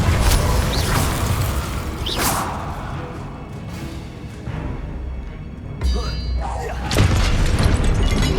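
Incendio fire spells blasting in the video game Hogwarts Legacy on PC: several loud whooshing bursts with booming impacts and crackling spread across the stretch, mixed with other spell effects and a shouted incantation.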